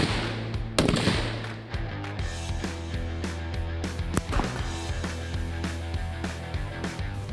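A Ruger SFAR rifle fires at an outdoor range during 50-yard zeroing. Several sharp cracks, with one loud near shot early and further shots at irregular intervals, sit over a steady low engine-like hum.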